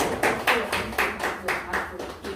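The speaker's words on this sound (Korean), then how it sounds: "박수 치주세요" A church congregation claps in rhythm at a pastor's ordination service, a steady run of about ten beats at moderate volume over a murmur of background voices.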